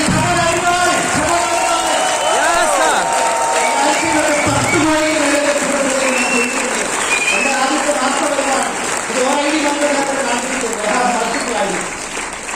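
Sustained applause from a large audience rolls on at an even, loud level, with voices calling and talking over the clapping.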